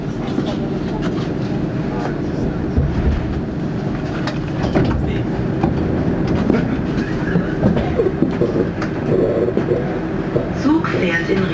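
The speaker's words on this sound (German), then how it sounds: "This train is proceeding to the last stop, Terminal C." The Düsseldorf Sky Train airport monorail runs with a steady rumbling hum and occasional clicks, with a faint announcement-like voice underneath and a continuous, even level throughout.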